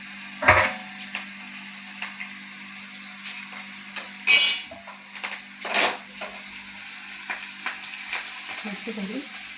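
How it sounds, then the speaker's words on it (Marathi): Chillies sizzle in hot oil for a tempering over dhokla, with a steady fry and a few louder stirring scrapes and clinks from the pan. "अशी झाली त्यावर फोडणी"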